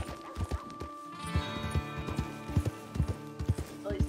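Horse hooves in Red Dead Redemption 2 clip-clop in an irregular walking rhythm close by, with a soft snort and faint background tones.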